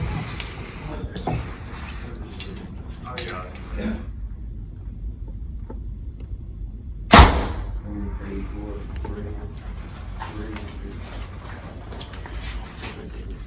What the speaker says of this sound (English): All right, we'll shoot it again. See what it does.